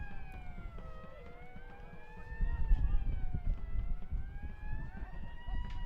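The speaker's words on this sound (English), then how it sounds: "That's actually a hand crank siren that the Gem City Squadron guys have going over there" A hand-crank siren winds up and down in long wavering tones, fairly faint and distant over outdoor crowd and wind noise at a Dayton Dynamo versus AFC Ann Arbor soccer match.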